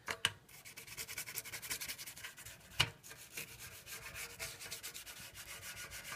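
Brush scrubbing the rubber part inside a kitchen sink food disposer, a close, steady rasping rub with rhythmic strokes and a couple of sharper knocks, no talking.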